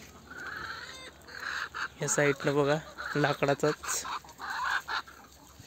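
Chickens cluck repeatedly in a coop built with pipes and wooden supports, their bursts of clucking rising between stretches of someone talking nearby.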